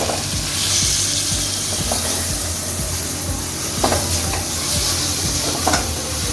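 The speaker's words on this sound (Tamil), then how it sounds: "நல்லா கிண்டிட்டு இந்த ஸ்டேஜில் இந்த தக்காளியை சேர்த்துருவோம். சேர்த்து நல்லா கிண்டி விட்டுருவோம்." Tomatoes being stirred and fried in a pan for mutton chukka, a loud close sizzle running throughout with rhythmic scraping and clattering of a spoon against the pan, no talking.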